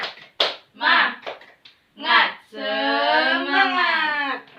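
Children in an elementary school classroom chant a rhythmic clapping cheer together, short bursts of voices punctuated by sharp claps, ending in a long sustained shouted line.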